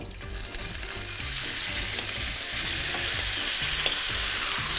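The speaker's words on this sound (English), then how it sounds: "So now we're just going to seal off the pork" Pork belly sears in a little oil in a pan, a steady close crackling sizzle with small pops running the whole time, alone without talk.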